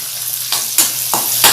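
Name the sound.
stirring fenugreek powder into frying colocasia stem curry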